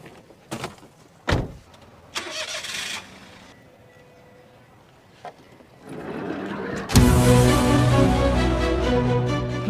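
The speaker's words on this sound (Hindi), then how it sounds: "निकालो गाड़ी भाई।" A car with a few clunks and clicks at first, then its engine catches and runs loud and steady as the vehicle pulls away, close by.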